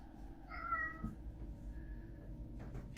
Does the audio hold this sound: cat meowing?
yes